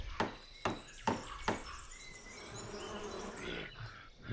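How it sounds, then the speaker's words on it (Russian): Bees buzz in the Namariel Legends: The Iron Lord video game, a faint steady hum after several sharp hammering knocks as something is nailed shut, with no talking. "Пчелы довольны."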